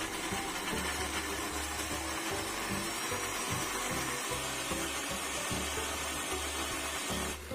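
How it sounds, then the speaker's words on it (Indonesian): A kitchen blender grinds roasted candlenuts with oil into a smooth paste, a loud continuous motor roar with churning, rattling texture that runs without letup until it cuts off right at the end. "Kalau kemirinya udah halus kayak gini, aku matikan dulu blendernya"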